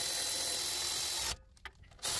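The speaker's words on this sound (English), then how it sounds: "When you're done putting the bolts in with the electric ratchet" Electric ratchet running bolts into a front brake caliper on a Toyota Prado 120 Series gives a loud, steady, close whir that cuts off, then a short spurt before it resumes.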